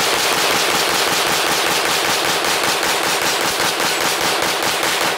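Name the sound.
rapid gunfire from a 50-round pistol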